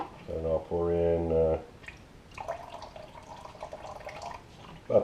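Plain household bleach poured into the water basin of an Aerogarden Bounty Classic hydroponic unit, a short splashing, trickling pour near the microphone, with a voice speaking over part of it.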